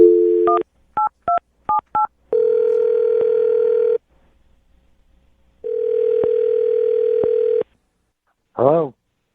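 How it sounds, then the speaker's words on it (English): A telephone number is keyed in as short, evenly spaced touch-tone beeps, followed by a long steady dial tone, a silent gap, another sustained tone and a brief warbling chirp at the end; all loud and close, no talking. "I'm going to dial his phone number"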